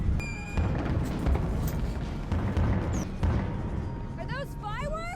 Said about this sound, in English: Are those fireworks?